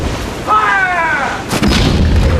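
A ship's cannon fires a single heavy boom over a steady roar of wind and sea, coming after a shouted voice on a sailing warship's deck.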